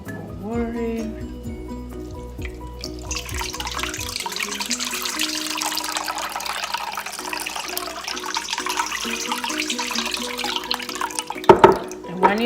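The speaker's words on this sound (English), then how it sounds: "More water in." Tap water runs into a bowl as butter is rinsed and squeezed by hand in a kitchen, a steady splashing flow under faint background music, with a few louder sloshes near the end.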